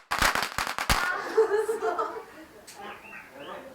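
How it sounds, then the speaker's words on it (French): Firecrackers set off by households for Miao New Year in Leishan, a rapid burst of sharp loud cracks up front, followed by voices and laughter over fading crackle. "À peine la porte s'ouvre que tous les foyers lancent des pétards pour se débarrasser du passé et"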